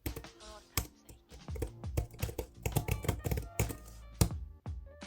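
Rapid typing on a minimal keyboard for the iPad Pro 11, a dense run of close, crisp key taps with a few heavier thunks, no talk over it.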